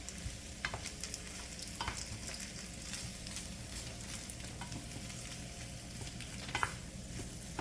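Veggies stirred and simmering in pasta sauce for jerk shrimp rasta pasta, a steady bubbling sizzle with occasional spoon scrapes and clicks throughout, close and continuous with no talk.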